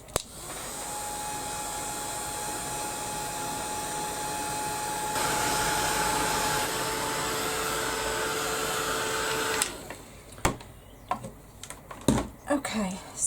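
A heat gun blows across a freshly painted canvas, a loud steady whooshing roar that holds for nearly ten seconds before cutting off, followed by scattered clicks and taps.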